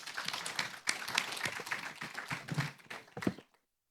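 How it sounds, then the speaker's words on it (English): An audience at an AI safety panel applauds the panelists, a dense crackling round of clapping that holds steady for about three and a half seconds, then stops abruptly into silence. "could we please give our panelists a warm round of applause for their contributions?"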